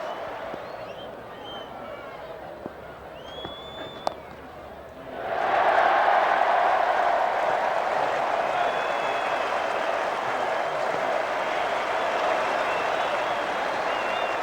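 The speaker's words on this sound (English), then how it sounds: "applause all round the ground for a fine half-century for the former captain, Michael Atherton" At a cricket Test match between England and South Africa, a sparse ground gives way to a swell of applause that rises suddenly and carries on steadily around the stadium, heard from a distance.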